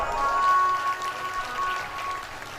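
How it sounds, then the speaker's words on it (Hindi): Applause from the audience at a Bhagwat Katha gathering in a Hanuman temple, a soft, diffuse patter of clapping that swells early and then continues at a lower, even level. "जोरदार तालियों के साथ"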